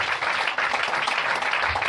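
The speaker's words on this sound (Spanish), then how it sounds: "¿Puede dar un aplauso usted al Señor?" Congregation at a Spanish-language church service breaks into brief, loud applause, a dense, even wash of many hands clapping together.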